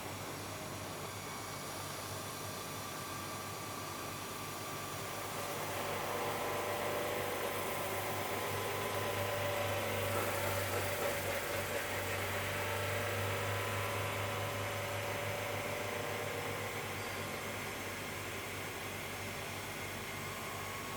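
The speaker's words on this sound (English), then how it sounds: "So this is sanding the back of the stamper." A machine spins a vinyl record stamper while sanding its back, a steady whirring hum with a broad hiss that swells slightly midway and holds, moderate and continuous with no talk.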